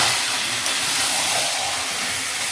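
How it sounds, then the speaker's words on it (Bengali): Chicken meat frying in a spice masala for a Bengali home chicken curry gives a steady, close broadband hiss and sizzle, continuous and even throughout with no talk. "মাংসটা দিয়ে দিই, সুন্দর করে কষিয়ে নিই"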